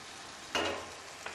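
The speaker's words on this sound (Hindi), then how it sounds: "अब इसके अंदर कुटी हुई लाल मिर्चें" Crushed red chillies hit hot oil for pulao, a sudden burst of sizzling that flares loudly then fades, with a smaller crackle just after.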